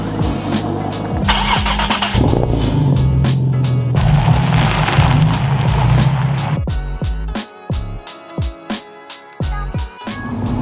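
An Audi R8 GT Spyder on new Michelin Pilot Sport 4S tyres crawling slowly, its engine a steady loud drone with some rumble, then irregular thumps and clunks toward the end, no talk.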